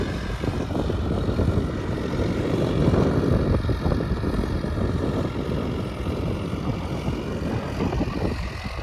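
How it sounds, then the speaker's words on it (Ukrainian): MTZ 892 tractor pulling a three-metre Europak seeder while applying mineral fertiliser, a steady loud diesel engine drone with rumbling mechanical noise that holds constant throughout, no voices. "Ось так їде МТЗ 892 з Європаком трьохметровим."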